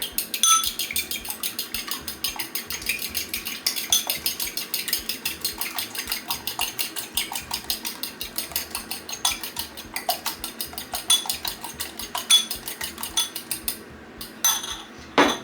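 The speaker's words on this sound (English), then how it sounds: "So we're just gonna whisk those together." Eggs whisked in a bowl for coating fish: a fast, steady, continuous clatter of a whisk against the bowl, close and bright, running unbroken for many seconds before a few final taps.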